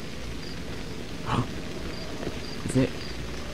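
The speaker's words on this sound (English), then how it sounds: "Look at that rain." Steady rain falls in the survival horror game Cry of Fear, a soft continuous hiss outdoors with two faint dull thuds rising over it and a brief spoken question.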